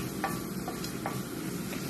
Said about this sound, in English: So I'm just sauteing this onion.